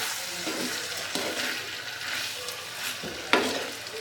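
Chopped lemon pieces tossed with salt for a white lemon pickle, giving a soft continuous wet stirring and scraping that carries through the clip, close by and moderate, with one sharper knock near the end; no one speaks.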